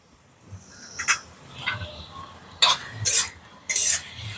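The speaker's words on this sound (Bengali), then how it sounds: "মশলাগুলোকে খুব ভালো করে একটু মিশিয়ে নেব" Spices such as turmeric, chilli powder and cumin powder being mixed into raw potatoes, with a spoon scraping and clinking against the bowl in several short bursts, close and fairly loud, with no talking.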